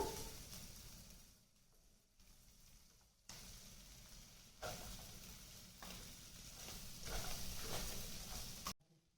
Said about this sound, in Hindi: अब आलू को भी हम डाल के भून लेते हैं।